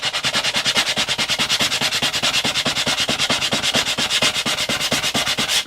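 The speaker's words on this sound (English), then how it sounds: "Then you can just go in and sand that." Steady, rhythmic back-and-forth hand sanding on ABS plastic, loud and close, with rapid even strokes continuing for several seconds before stopping.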